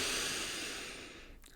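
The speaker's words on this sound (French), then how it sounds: "Je respire." A child takes one long, close breath during a yoga exercise, a breathy exhale that fades away over about a second and a half.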